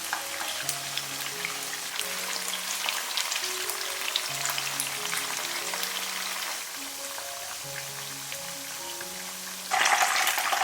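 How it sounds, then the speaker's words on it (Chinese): Hakka stuffed tofu deep-frying in hot oil gives a continuous close sizzle and crackle, with a louder burst of spattering near the end; soft background music plays along. "炸豆腐我们一定不要着急去翻动它，等到边上有点点金黄了，这个时候才可以翻动。"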